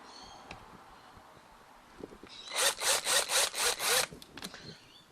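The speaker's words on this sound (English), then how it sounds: "Now come through with the cordless, and again the ratchet spanner." Ratchet spanner tightening a bug screen fan fitting on a Gen 3 Pajero, a close, loud run of about six rapid rasping clicks in even rhythm, preceded by faint taps and handling noise, no talk.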